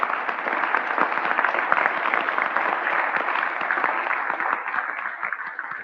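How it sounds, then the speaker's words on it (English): A conference audience at NixCon Paris applauds continuously, a dense and even clapping that fills the room at steady loudness and fades slightly near the end. "So if I can get one more round of applause for,"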